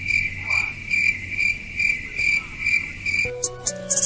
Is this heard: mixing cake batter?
no